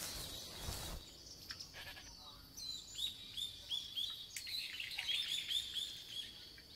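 A goat in the video game Metal Gear Solid 3 bleats in a series of thin, high, repeated calls that sound faint and somewhat distant over quiet outdoor ambience.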